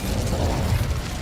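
Incendio fire spell cast in Hogwarts Legacy, a dense roaring burst of flame with low rumbling mechanical texture sustained evenly throughout, loud and close with no talking.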